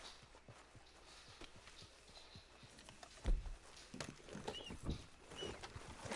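Horse hooves in a video game clop softly over ground in an uneven walking rhythm, faint at first and then louder, with scattered rustling around them.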